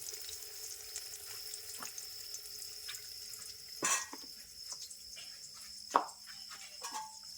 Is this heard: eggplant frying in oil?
yes